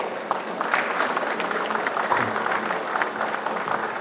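Audience applause at the opening of an international symposium on tunnels and underground works, a steady broadband clatter of many hands lasting about four seconds at even loudness, with no voices standing out.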